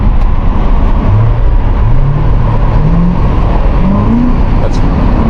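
Car engine pulling hard under acceleration, low rising drone climbing through several gear sweeps, loud and close over steady road and wind rumble.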